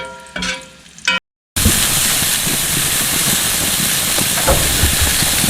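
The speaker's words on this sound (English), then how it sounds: "we have the grill about as hot as it will go. You can see by the steam we got it rolling, smoking" Stuffed cheeseburgers sizzle on a grill turned up as hot as it goes, with steam and smoke rising, giving a steady loud frying hiss that starts abruptly after brief, muffled noise.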